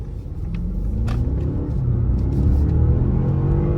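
A twin-turbo Audi accelerates hard from a start, engine rumble rising steadily in a loud, close, continuous surge with no talk.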